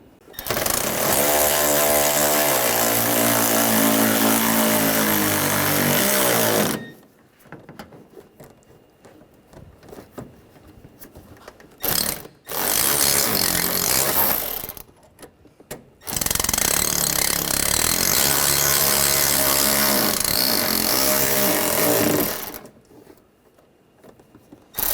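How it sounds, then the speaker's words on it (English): A power tool drives bolts into the front bumper panel of a 2013-2019 Ford Escape, heard as three loud, sustained whirring bursts several seconds long, separated by quieter pauses. "I'll put these bolts in."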